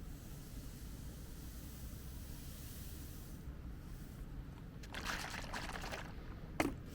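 Water poured into a container to mix instant cocoa beverage powder from an arctic military ration, a splashing pour rising from about five seconds over faint steady background hiss, ending with a brief clink.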